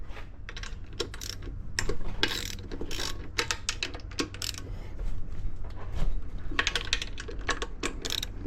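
A ratchet socket wrench breaking bolts free during a 300-hour service on a Yamaha outboard, with rapid clicking pawl bursts repeating in quick, uneven runs at close range, no talk.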